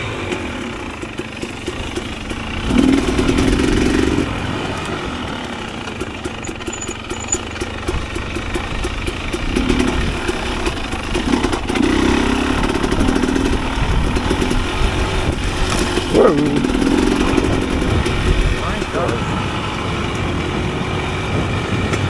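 A 2022 Husqvarna TX 300 two-stroke dirt bike descending slick crushed granite, its engine a rough close burbling drone with rhythmic chugging surges and brief throttle blips, no talk.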